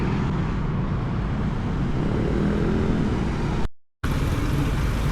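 Steady road traffic rumbles past on the Milan bypass road, a continuous broad roar of cars and heavier vehicles, loud and close, broken by a short cut to silence near the end.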